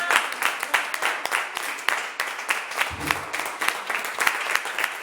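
Church congregation applauding during a Sunday sermon, moderately loud scattered clapping with irregular individual claps standing out, continuing steadily throughout with a brief low thump midway.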